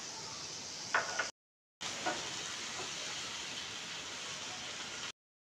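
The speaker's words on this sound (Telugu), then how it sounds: "ఇప్పుడు ఆనియన్స్, కరివేపాకు, పచ్చిమిర్చి వేసుకోవాలి." Onions, curry leaves and green chillies frying in oil for jeera fried rice, a steady hiss broken by a short gap, with a few faint utensil taps, close and moderately loud, no talking.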